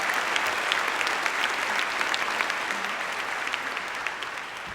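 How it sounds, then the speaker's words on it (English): Steady, sustained applause from a crowd at a lecture series event at the Martin Luther King Freedom Center fills the room with a dense, even patter of many hands. "So give Pastor Haynes and Elihu a round of applause again for me, because I really love you both, and thank y"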